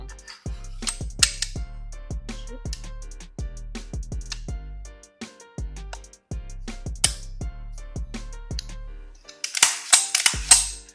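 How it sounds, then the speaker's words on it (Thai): Metal parts click and clack sharply at close range as a bolt carrier slides back into a CMMG Dissent 5.56 NATO rifle, an AR-style gun, in a quick irregular series of snaps, ending with a brighter rattle. "ใส่ลูกเลื่อนกลับเข้าไปนะครับผม"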